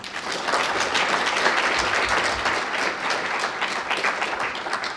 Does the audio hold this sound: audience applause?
yes